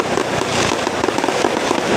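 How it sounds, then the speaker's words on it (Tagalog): Fireworks set off for a welcome celebration crackle and pop in a dense, continuous barrage, loud and close, with rapid overlapping bursts throughout. "Yes, may pa-fireworks pa."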